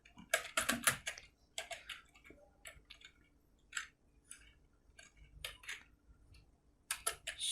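Typing on a computer keyboard, with uneven bursts of crisp key clicks close up, some quick runs and a few pauses between, with no talk.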